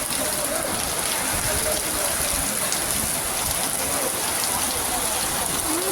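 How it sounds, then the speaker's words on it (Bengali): Heavy rain pours down outside a shop with its gate shut, a dense, constant hiss of water drumming on surfaces, loud and unbroken throughout. "এত জোরে বৃষ্টি আসছে"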